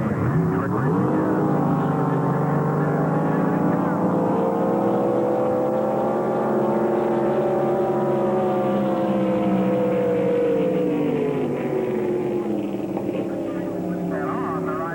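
A drag boat's engine roars through a race pass at the Chowchilla drag boat races: a loud, sustained, harmonic engine drone that rises and shifts in pitch, then slowly falls away, with a commentator's voice partly mixed in.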